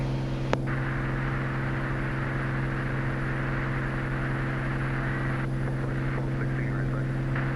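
Steady, loud drone of a small general aviation airplane's propeller engine climbing through about 1600 feet, a constant hum with a brief click near the start.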